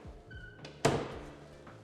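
A pantry door in a Las Vegas house kitchen swings shut with one solid thud, moderately loud and close, followed by a brief fading rattle in a quiet room.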